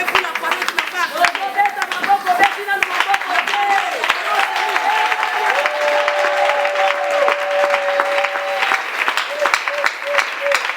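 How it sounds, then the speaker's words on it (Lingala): A church congregation applauding during a service, with a rolling wash of hand claps mixed with raised voices and sustained tones, fairly loud and continuous throughout. "Acclamez pour la parole."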